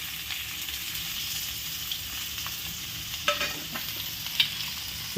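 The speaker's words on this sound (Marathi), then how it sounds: "आता आपण हे जे 2 कांदे घेतले होते ते कांदे याच्यामध्ये, कापलेला कांदा याच्यामध्ये घालून घेऊ आपण." Chopped onions frying in hot oil with cumin, a steady soft sizzle with crackling and a couple of sharper spatters, close and alone without talk.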